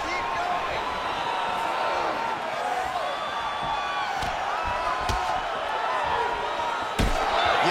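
An arena crowd at an MMA fight applauds and roars in a steady, dense wash after a grappling exchange, with occasional sharp slams cutting through.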